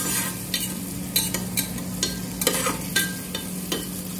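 Peeled cashews fry over a high flame, a steady sizzle under repeated stirring scrapes that come in irregular bursts, near and fairly loud.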